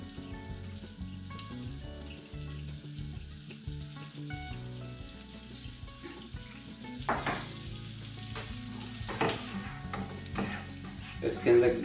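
Butter and crushed garlic sizzle and fry in a pan for an omelette dish, a steady crackle with occasional stirring scrapes and some running water, fairly quiet and close with no talking.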